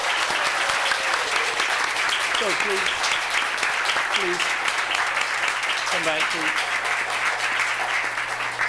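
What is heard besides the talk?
audience applause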